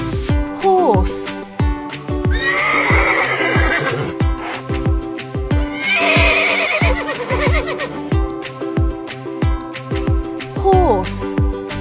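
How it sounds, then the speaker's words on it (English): A horse gives two loud, shrill whinnies, close by, over a steady rhythmic music track with brief squeaky flourishes at the start and end. "Horse."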